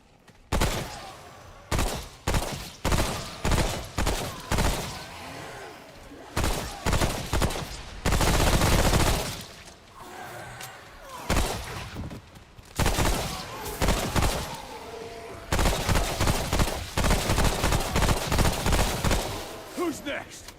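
Repeated rifle gunfire bursts in a video game, rapid volleys of loud shots coming in clusters throughout with brief pauses between.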